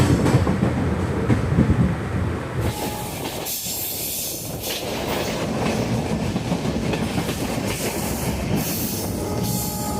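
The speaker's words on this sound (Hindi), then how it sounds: "ट्रेन यहाँ से निकल चुकी है।" Janmabhoomi Express pulling out of Phalodi Junction, with a steady rolling rumble of the coaches, rail clatter and a brief wheel squeal, heard close from on board and continuing without a break.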